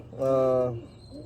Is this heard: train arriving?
no